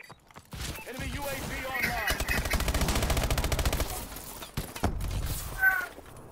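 Rapid automatic gunfire rattles in a sustained burst during a clan-war shooter video game, with scattered single shots around it and a player's voice talking over the action.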